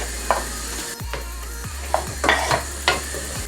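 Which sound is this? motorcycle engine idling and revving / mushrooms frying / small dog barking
mushrooms frying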